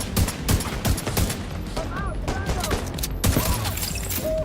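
Rapid bursts of gunfire, including shotgun blasts, in the video game Tom Clancy's The Division 2, sharp overlapping reports in quick clusters amid a busy game soundscape.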